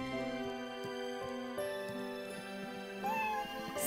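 A single cat meow in a video game, Sabrina: Secrets of a Teenage Witch, rises briefly over a steady musical background with sustained tones.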